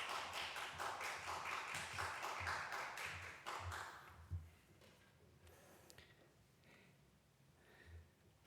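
A church congregation claps to welcome a missionary, a burst of close applause that fades after about four seconds into a quiet room with a few scattered taps and small noises.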